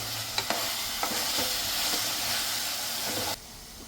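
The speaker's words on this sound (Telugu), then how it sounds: "ఒకసారి కలిపేసుకుందాం" A rice mixture is stirred in a cooking pan, with a steady broadband scraping and hiss and a few sharp spoon knocks near the start, running continuously until it drops off abruptly near the end.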